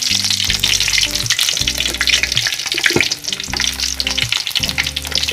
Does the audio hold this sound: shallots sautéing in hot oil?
yes